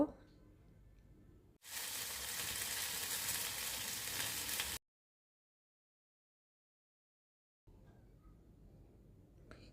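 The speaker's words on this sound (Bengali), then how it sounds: "কচু আর মূলোটা বেশ ভালোভাবে ভেজে নেব।" Pieces of taro and radish frying in a pan give off a loud, even sizzle that starts abruptly, runs for about three seconds and then cuts to silence. Quieter room sound comes before and after it.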